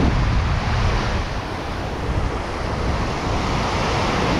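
Steady wind of about 15 mph buffets the microphone beside the ocean at sunset, with a continuous broadband roar of surf and gusts throughout.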